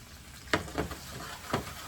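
Breakfast food frying in a pan gives a low hiss, broken by three quick spatula clacks as it is mixed and flipped, close up and with no talking.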